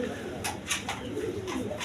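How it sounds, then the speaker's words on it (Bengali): A pigeon of the Anar Chor breed coos softly, a faint low murmur in short repeated phrases under quiet background noise. "দেখেন আনার চোর কবুতর"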